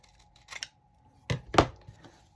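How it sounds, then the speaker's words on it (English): Scissors trim the edge of a journal pouch made of paper ephemera, giving a few close, crisp snips in quick succession with brief quiet gaps between. "I'll just take my scissors and"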